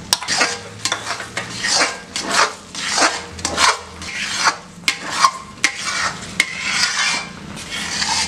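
Mango pulp being stirred into semolina kesari in a pan, with repeated scraping, rasping strokes of a spoon against the pan and a faint sizzle beneath, steady and close with no talk.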